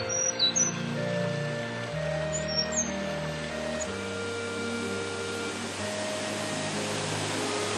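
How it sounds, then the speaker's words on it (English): Birds chirp and call in a forest by waterfalls, sharp high tweets near the start and again a few seconds in, set against a steady hiss of rushing water. "the sound of birdsong"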